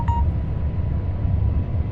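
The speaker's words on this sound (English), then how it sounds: "So there's a double beep again." A double warning beep sounds in the Train Sim World 2 railway simulator, a short tonal bleep right at the start over a steady low rumble of the moving train cab that carries on alone.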